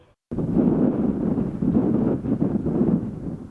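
Steady roaring wind blowing sand across a road on Padre Island buffets the microphone, a dense continuous rush with gritty texture, loud and close, with no voices.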